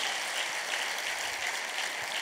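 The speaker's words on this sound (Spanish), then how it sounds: "Dale un aplauso a Cristo." Church congregation applauding during a sermon, a steady, dense wash of clapping from many hands filling the room for a couple of seconds, with no voices standing out.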